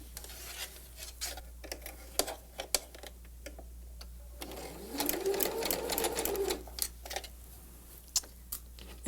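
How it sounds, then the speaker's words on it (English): Home sewing machine stitching a quilt block with a standard quarter-inch seam, a steady motorized whir running for a few seconds mid-clip amid scattered ticks and taps of handling fabric. "So let's go to the sewing machine."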